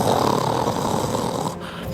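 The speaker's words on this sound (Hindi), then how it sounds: "जल्द ही कालू कौवा खर्राटे लेने लगता है।" A cartoon crow snores in a children's animated story. Loud, rough, rumbling breaths run through the short clip and fade a little toward the end, with no talk.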